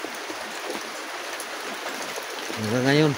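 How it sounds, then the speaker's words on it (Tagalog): Heavy, steady rain makes a constant close hiss and patter throughout, and a voice speaks briefly over it near the end. "Grabing ulan mga kapobre. Walang tigil-tigil."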